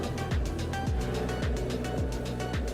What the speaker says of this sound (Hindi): पहले गियर में चढ़ रही है बाइक।